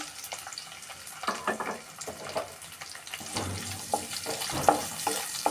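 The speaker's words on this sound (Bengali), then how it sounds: "এখানে পেঁয়াজ কুচিয়ে রেখে দিয়েছিলাম, সেটা দিয়ে দিচ্ছি।" Chopped onion dropped into hot oil with bay leaves in a wok, a busy crackling sizzle with stirring scrapes and occasional clinks, close and steady throughout, no voices.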